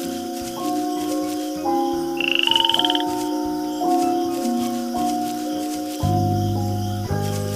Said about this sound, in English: We found a frog.